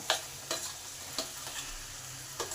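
Mashed potato and eggplant are stirred into fried spices in a pan, a low continuous sizzle broken by several light, evenly spaced scraping strokes of the spoon; no one speaks.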